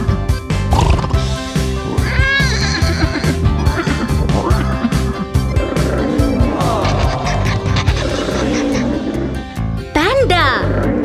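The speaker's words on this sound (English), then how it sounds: "Horse." A cartoon horse neighs in an educational animal-names video for children, a couple of short whinnies mixed into loud, busy background music.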